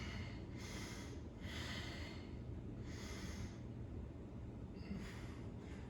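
Forceful breaths out during an upper-body workout flow, four airy hissing exhales spaced a second or two apart over a steady low background rumble.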